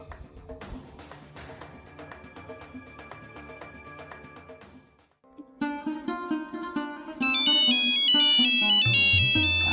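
A phone ringtone plays loudly as a melodic electronic tune, shifting to a brighter, higher repeating jingle partway through, with no talk over it.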